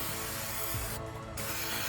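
An aerosol can sprays aircraft paint remover with a steady, loud hiss that drops out briefly near the middle and then resumes.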